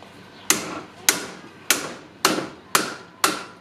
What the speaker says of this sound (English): So if it doesn't line up, we like to use a hammer.